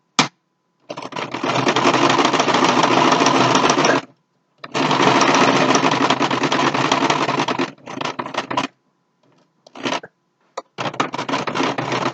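Top stitching on a homemade fabric mask: a close sewing machine runs in several loud, even bursts of a few seconds each, separated by short silent pauses and a few brief clicks.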